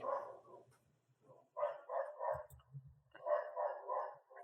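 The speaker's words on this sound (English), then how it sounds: "A lot of dogs in these subway tracks" Dogs bark in subway tracks in a tabletop role-playing game session, with three bursts of barking and yipping separated by short pauses. A low growl sits under the middle burst, and the sound is fairly close and clear.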